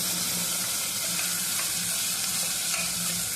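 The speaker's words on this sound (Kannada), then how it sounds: "ಹಸಿ ಬಟಾಣಿ ಹಾಕ್ತಾ ಇದ್ದೀನಿ." Fresh green peas tipped into a hot pan of oil for a mixed vegetable sagu, giving a loud, continuous sizzle and frying hiss with light stirring throughout.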